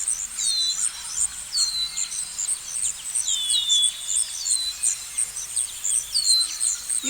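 Bird sound effect laid over a Lumion movie: repeated high, quick descending chirps and tweets in a steady rhythm, faint and without other sounds or voices.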